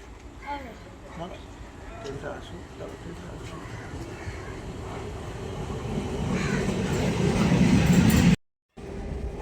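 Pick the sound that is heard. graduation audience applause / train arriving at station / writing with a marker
train arriving at station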